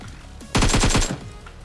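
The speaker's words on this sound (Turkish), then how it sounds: "Bu arada çatışma var." A rapid burst of about six gunshots in a PUBG Mobile firefight, loud and close, lasting under a second against quiet game ambience.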